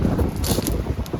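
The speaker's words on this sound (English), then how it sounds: "this wind is just blowing right in here" Wind by Lake Winnipeg buffets the microphone in a brief, close, rumbling burst.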